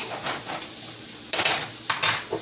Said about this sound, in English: Okay, so we got it sauteing.